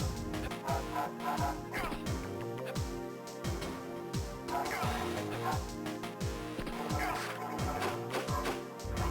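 Dogs attacking in a Game Boy Advance game: repeated chiptune-style barks and yips pulsing in a steady rhythm over busy game music, loud and continuous with no talk.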